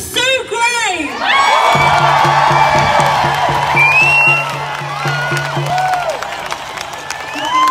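Crowd at an outdoor Freedom Day rally breaking into loud applause, whoops and cheering, sustained and dense, with shouting voices and a rhythmic clap pattern running through.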